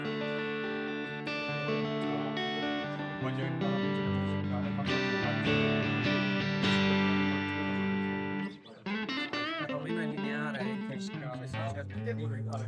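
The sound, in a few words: Chase Bliss Gladio overdrive pedal with clean control at zero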